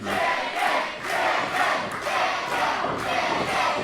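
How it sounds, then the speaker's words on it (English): A crowd at an independent wrestling show chants in rhythmic, pulsing waves, a dense roar of many voices rising and falling about every half second, fairly loud and without any nearby speech. "Crowd continue to call out to the absent Brian Bowers as Dupree gets the knee up."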